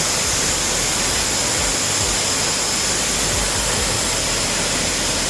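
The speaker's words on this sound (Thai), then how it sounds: "สวยมากเลย น้ำตกนะครับ" The waterfall at Mon Tha Than in Doi Suthep-Pui national park roars as a loud, dense, unbroken rush of falling water, close and constant throughout.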